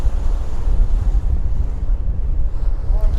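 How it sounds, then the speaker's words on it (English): Steady, loud wind buffets the microphone aboard the old Manly Ferry crossing Sydney Harbour, a continuous low roar with water and surf noise mixed in and no talk. "A little bit breezy now, a bit of a cooler breeze, but still"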